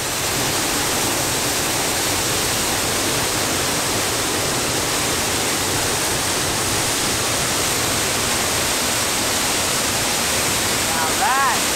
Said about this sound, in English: Now that is a good view of the waterfall.